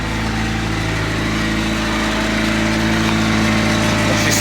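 A Mitsubishi Eclipse engine idles steadily up close, a continuous even drone with a low, regular pulse and no talking.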